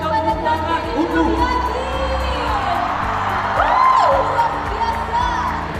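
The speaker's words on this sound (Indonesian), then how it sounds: "teman-teman kita berikan tepuk tangan untuk" A student audience of about 4,800 in a hall cheers and whoops loudly, a dense crowd roar with scattered shouts and a raised voice over it, swelling midway and staying sustained.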